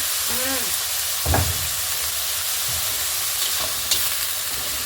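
Egg dish with turmeric and salt stirred in a frying pan, a steady sizzle and hiss with a few scraping spoon strokes and faint background sounds.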